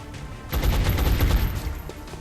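Gunfire from the XCOM: Long War strategy game: a dense burst of rapid shots starting about half a second in, loud and close, with no talk over it.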